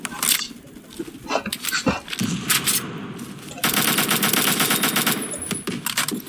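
Rapid bursts of automatic rifle fire from the online shooter Phantom Forces ring out in loud, stuttering volleys, broken by short pauses and then a long sustained string of shots.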